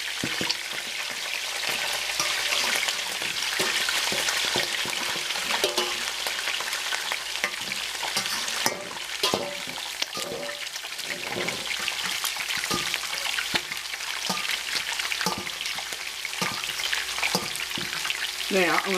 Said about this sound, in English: You just want to kind of put a hard fry on it so it stays kind of chunky